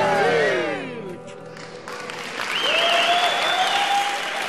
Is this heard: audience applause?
yes